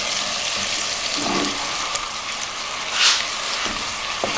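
Chicken pieces and chopped onion fry in a pan with a steady, moderate sizzle, punctuated by a few brief clatters and splashy bursts up close.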